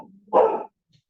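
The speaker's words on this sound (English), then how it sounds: "we have a dog in the house" A dog in a house lets out a single short, sharp bark, close and loud, followed by silence.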